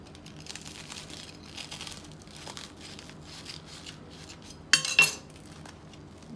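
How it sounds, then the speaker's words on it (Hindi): A paneer sandwich being cut on a plate, with light clinks of cutlery and crumbly scraping, then a sharp louder clatter near the end, close by and without talk. "गैस को ऑफ कर देंगे, इसको निकाल लेते हैं, फिर इसको भी काट लेते हैं।"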